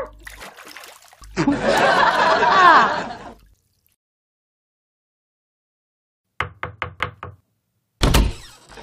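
Knocking on a door, two bursts of quick, sharp raps after a stretch of silence, with earlier laughter and rustling before the knocks.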